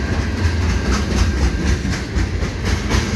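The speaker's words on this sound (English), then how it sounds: "Now I got a CN train" A westbound CN freight train rolls past close by at a road crossing, loud rumbling with a regular clickety-clack of wheels over rail joints.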